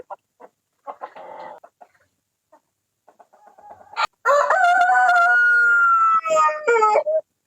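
Scattered hen clucks at first, then a loud rooster crows close by in a long, drawn-out call, in a backyard flock of laying hens.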